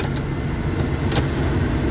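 A pickup truck's engine drones steadily, close and loud, as it drives along a snowy farm road in a ground blizzard, with no talking.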